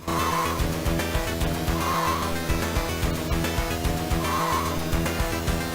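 A race car in a Sega 32X racing video game drones with a steady, loud engine note, and a softer tire screech recurs every couple of seconds.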